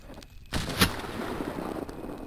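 Sniper gunfire in the video game Cultic, one sharp booming shot followed by another crack and a lingering rumble, fairly loud against a dim game background with no talk.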